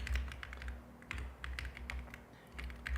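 Steady typing on a computer keyboard, a close run of light clicking keystrokes in uneven bursts with brief pauses, alone in a quiet room.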